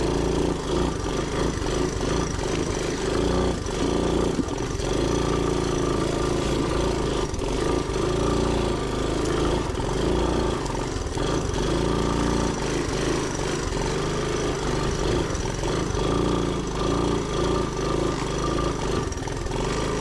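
A Honda ATC 185s three-wheeler engine labours up a steep mountain climb, a loud, continuous buzzing drone close by that wavers as the throttle shifts, with no break for the full length.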